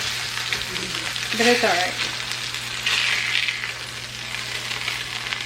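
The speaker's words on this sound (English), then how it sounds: "we're going to want to scrape all these bits up" Seared bits scraped up from the bottom of a sizzling pan during home dinner cooking: a steady hot sizzle with scraping and stirring strokes, close by, while a voice briefly speaks over it.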